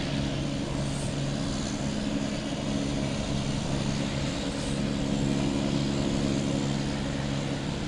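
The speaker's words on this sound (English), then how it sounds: "That's the engine noise you hear." Boutique Air propeller plane starting its engine at Logan Airport, a steady droning hum with low tonal bands, moderately loud and continuous throughout.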